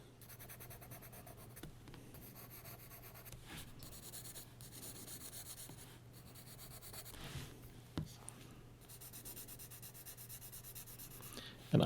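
A graphite pencil held flat shades broad areas on paper, a soft continuous scratchy rubbing with a few faint taps and pauses under a steady low hum.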